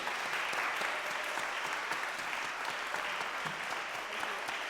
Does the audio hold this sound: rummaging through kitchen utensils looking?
no